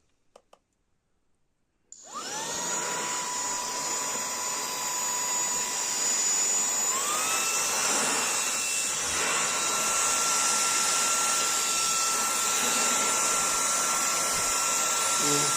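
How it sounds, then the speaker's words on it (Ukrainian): An Aspiring Windstorm 3 handheld car vacuum cleaner switches on after a brief quiet moment and runs with a steady, loud high-pitched whine and rushing airflow, its pitch dipping slightly partway through as it works over carpet. "Щоб увімкнути цей пилосос, треба утримати кнопочку, натиснути і потримати на ній."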